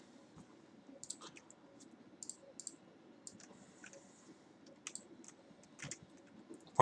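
Names are typed on a computer keyboard in quick, irregular bursts of sharp clicking keystrokes, close and fairly quiet, with no voices.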